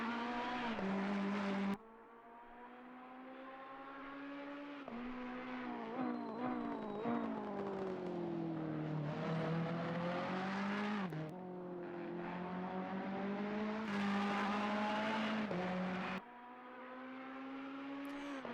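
A Ferrari 488 GT3 race car engine in Assetto Corsa Competizione at Misano, loud and close, revving up through the gears with repeated rising pitches broken by sharp upshift drops, easing down and climbing again.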